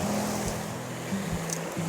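A small waterfall spills past a log across a stream, making a steady, close rushing wash of water that runs unbroken with a low hum beneath it.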